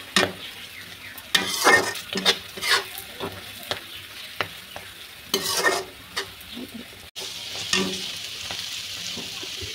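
Homemade hair oil fries in a pan, oil sizzling steadily with bursts of crackling and spattering, punctuated by scraping stirs, loud and close with no voices.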